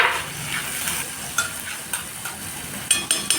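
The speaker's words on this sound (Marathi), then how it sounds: "आता तेल टाकलं, लसूण टाकला आणि मिरची टाकली. आणि आता मी टमाटर टाकते." Tomatoes hit hot oil with garlic and chili in a pan, giving a close sizzle that flares and settles, punctuated by a few sharp clinks and scrapes, with no speech.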